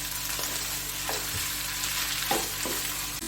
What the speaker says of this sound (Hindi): इसको भी थोड़ा सा फ्राई कर दूंगा। आलू, और बस इसको थोड़ा सा इसमें मिक्स कर दूंगी सब।